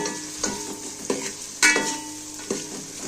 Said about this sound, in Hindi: सरसों के तेल में मैं बनाऊंगी। सबसे पहले मैं प्याज डालूंगी इसमें।